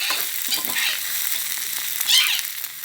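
Hornet larvae crackle and sizzle as they fry in hot oil, a busy close-up spatter with irregular pops and a louder burst of crackling toward the end.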